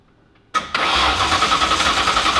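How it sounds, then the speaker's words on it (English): A Ford Foxbody Mustang's swapped 2V engine cranks briefly, catches with a sharp burst, then settles into a steady idle close by, running roughly. "It's been a long time since this car is fired up"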